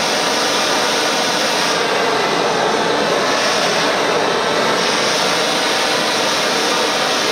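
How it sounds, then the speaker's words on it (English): A blowtorch flame roars loudly and steadily, hissing continuously like a jet engine, with a slight shift in tone partway through and no voices. "Like a jet engine roar. So there you have it. Blowtorch."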